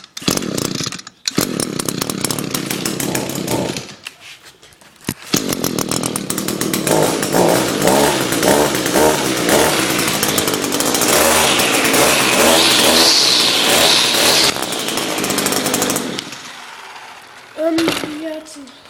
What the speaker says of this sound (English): it's an awesome weed whacker